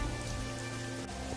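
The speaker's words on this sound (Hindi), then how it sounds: "लेकिन बारिश थी कि रुकने का नाम तक नहीं ले रही थी" Heavy, unrelenting rain pours down in a steady, dense hiss, loud and close throughout with no voices.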